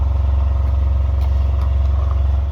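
A Fischer Panda diesel generator running steadily after a few minutes of warm-up, a loud, even low drone with a fast mechanical pulse and no talk.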